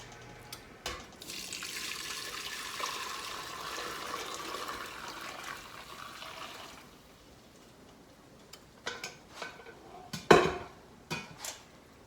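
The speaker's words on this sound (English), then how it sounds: "I'm going to pour the broth into that without burning myself" Chicken broth pours steadily through a fine mesh sieve for several seconds with a watery splashing rush, then stops, followed by a few sharp clinks and knocks of metal and dishes.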